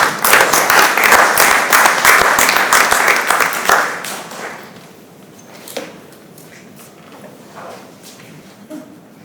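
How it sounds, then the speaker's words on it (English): A meeting audience bursts into loud, dense applause that holds for about four seconds, then thins into a few scattered claps and quiet room noise. "let's give her a round of applause for that"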